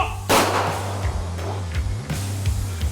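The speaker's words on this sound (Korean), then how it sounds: "조총을 발사하는데" An army honor guard fires a ceremonial rifle volley, one sharp loud crack with a ragged tail as the shots land slightly out of sync, followed by fainter outdoor rumble.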